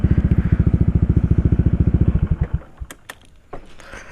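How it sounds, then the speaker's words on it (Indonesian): Honda PCX 160 scooter fitted with a Puresound Rez Speed SR V4 aftermarket exhaust, revving in a steady rapid pulsing burble that cuts off after about two and a half seconds, followed by a few scattered clicks and clatter. "Ini dia guys knalpotnya. Enak suaranya ya guys ya, nampol."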